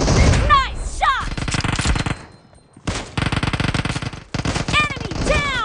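Kar98 rifle fire in PUBG Mobile: loud, dense bursts of shots crack out in quick succession, broken by a short lull, with brief game voice callouts mixed in.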